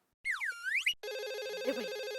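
A telephone rings in a home, a trilling electronic ring after a brief sweeping tone, steady and alone without talk.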